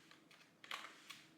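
Keys tap quietly on a computer keyboard, with a handful of soft, irregular clicks over about a second and a half and one slightly louder keystroke in the middle.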